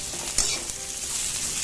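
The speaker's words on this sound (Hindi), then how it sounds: "देखिए हमारा आलू फ्राई हो रहा है" Potatoes fry steadily in hot oil over a medium flame for a potato and pointed gourd sabzi, a dense continuous sizzle with one brief louder crackle near the start and no talking.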